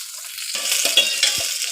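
Shallots and green chillies fry in hot oil in a pan for beetroot sambar, giving a close, bright, continuous sizzle. A few soft stirring knocks sound over it, and the sizzle swells after a quieter opening moment.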